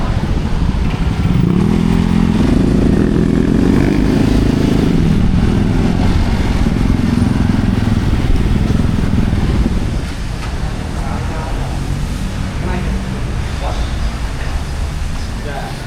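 Filthy, mud-caked motorcycle engine runs close by in Bangkok with a steady, rough rumble and clatter, easing slightly toward the end, while a person talks over it.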